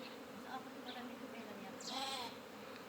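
A swarm of escaped bees being caught, clustering around their queen, gives a dense, steady buzzing close by that swells slightly near the end, with a voice faintly present.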